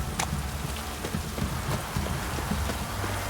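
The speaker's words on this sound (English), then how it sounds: "This downpour's a bastard" Heavy rain in the video game The Witcher 3: Wild Hunt hisses steadily with scattered knocking and clopping sounds, a continuous downpour with no talking.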